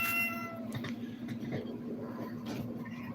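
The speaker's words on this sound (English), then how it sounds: "that's the cat you guys are hearing" Joker the cat meows close by, a clear drawn-out meow at the start followed by quieter murmuring sounds over a steady low indoor hum.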